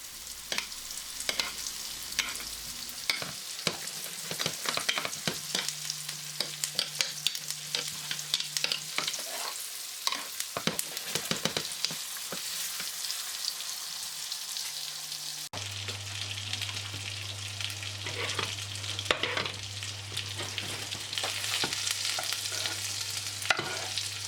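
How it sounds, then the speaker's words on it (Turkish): Beef tenderloin steak fries in a pan while hot oil is spooned over it, a steady broadband sizzle running throughout with scraping and spattering bursts, a low hum entering partway, no voices. "Yağdan sürekli etimizin üzerine mantılıyoruz arkadaşlar."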